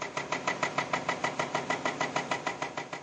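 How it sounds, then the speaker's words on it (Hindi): Stone crushing machine cutting into a mountainside at night, a steady rapid rhythmic pounding of about six beats per second, continuous and moderately distant with no voices. "इसकी आवाज़, जो स्टोन क्रशिंग की आवाज़ है, जो पहाड़ को भेदने की आवाज़ है मशीन से"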